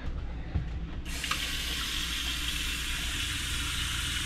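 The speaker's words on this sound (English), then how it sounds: "Turn the pump on, see if we get some action." A replacement RV fresh water pump switches on after a brief quiet moment, then water rushes steadily from the tap with a constant hiss and gurgle, loud and close, with no talking.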